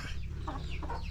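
A few short clucks from chickens nearby, broken into quick bursts over a low steady background hum.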